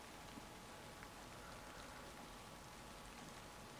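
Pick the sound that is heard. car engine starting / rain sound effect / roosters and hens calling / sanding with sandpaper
rain sound effect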